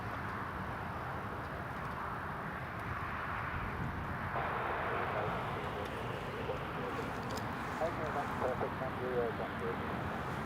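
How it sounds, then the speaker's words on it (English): An Aer Lingus airliner on approach to runway 25 at Newcastle Airport gives a steady, broad jet rumble at moderate distance, lasting throughout and swelling slightly toward the end, with people talking over it. "Air Lingus is just on the approach now for runway 25"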